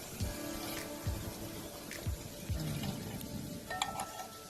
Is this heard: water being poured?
yes